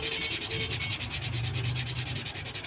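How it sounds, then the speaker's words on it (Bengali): Rust is scrubbed off a knife blade by hand, a close, steady back-and-forth rubbing with even rhythmic strokes, continuous and alone. "জাস্ট পুরো বডিতে যে জং থাকে বা যে মরিচাটা থাকে সেটা আপনারা এভাবে ঘষে ঘষে উঠিয়ে ফেলতে পারেন"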